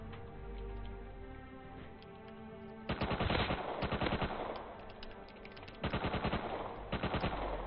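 Rapid automatic gunfire in a shooter video game, bursts of repeated shots rattling close and loud, starting after a brief quieter stretch and returning in several sustained volleys over a steady background hum.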